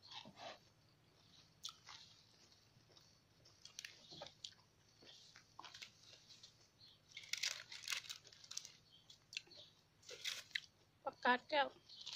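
Chewing on a mix of fresh garden vegetables eaten with chili dip and fish, crisp bites and wet mastication sounds heard close up, recurring in bursts with a louder crunchy stretch near the end, while someone talks throughout.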